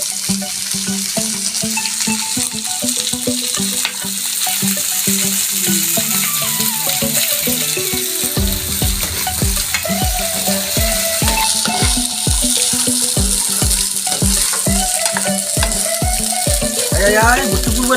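Food frying in a pan at home during an Assamese Bihu celebration, a steady loud sizzle running throughout with clattering stirring and utensil knocks, and rhythmic thumps in the second half.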